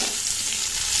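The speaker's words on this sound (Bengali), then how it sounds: "তারপরে দিচ্ছি করলা। এগুলো একটু হালকা করে ভেজে নেব" Bitter gourd fries lightly in oil, giving a dense, even sizzling hiss, close and steady, with no voices.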